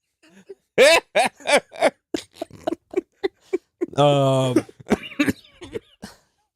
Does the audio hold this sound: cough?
yes